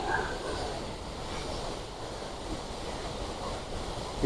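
Water rushing steadily through Pechiparai dam, a broad continuous roar of flowing water with no breaks, moderately loud and close, heard alone without talk.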